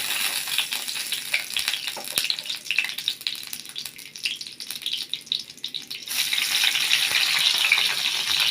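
Spices tempering in hot oil for a Bengali green banana fry, a steady sizzle and crackle with occasional clinks and stirring rattles, close and moderately loud throughout.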